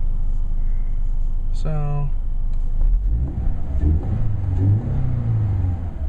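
A 2013 Scion FR-S engine runs with a throaty, low rumble close by, and a brief rising chirp sounds near the start; someone speaks over part of it.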